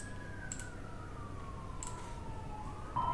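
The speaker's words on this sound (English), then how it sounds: "We have some ambulance outside." A siren sweeps steadily in pitch outside, moderately loud and continuous behind a quiet room, with a few faint clicks and taps nearby.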